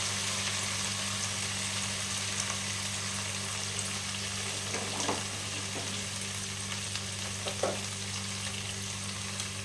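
Ginger and garlic fry in hot oil for a rui fish curry, giving a steady close sizzle with occasional stirring scrapes and small crackles, continuous and without talk.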